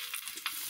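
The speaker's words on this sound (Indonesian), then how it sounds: "yang pertama kita lakukan adalah ini menggoreng tempe yang sudah saya potong dadu" Diced tempeh, cut into roughly one-centimetre cubes, fries in hot oil, giving a steady crackling sizzle that stays close and even throughout a brief moment with no talking.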